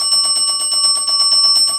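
A bell rings repeatedly in a fast, even pulse, bright and sustained throughout, during a ghost-hunting session at the allegedly haunted 1858 Garnett House Hotel in Garnett, Kansas.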